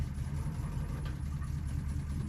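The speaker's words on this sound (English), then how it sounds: "we definitely have an exhaust leak a bit too" A 1990 Oldsmobile Custom Cruiser idles with an exhaust leak, giving a steady, fairly faint low rumble that holds even throughout with no voices.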